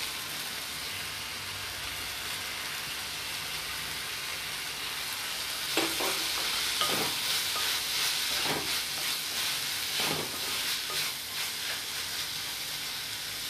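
Tomatoes and vegetables for Indian masala pasta fry in a pan over medium heat, a steady close hissing sizzle that swells with several stirring scrapes partway through; no speech.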